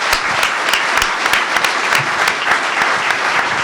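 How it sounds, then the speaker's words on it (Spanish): A gathered audience breaks into loud, sustained applause, many hands clapping in a dense, even roar that carries from start to finish. "este aplauso es un abrazo de los compañeros y de los lectores de Página 12 al genio de Rep"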